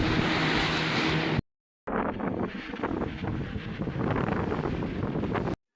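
Strong wind buffeting a microphone aboard a fishing boat at sea in bad weather, a loud rushing roar that cuts out briefly then returns steadily, with no talk.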